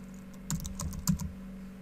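A quick burst of a few keystrokes on a computer keyboard typing a short search term, crisp clicks clustered within about a second, close and clear with no talking.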